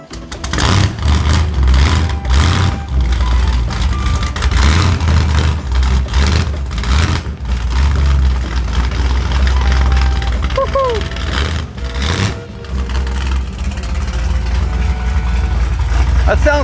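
A 409ci American muscle car engine runs loud and close, a steady deep rumble with slight surges in revs, and voices talk over it.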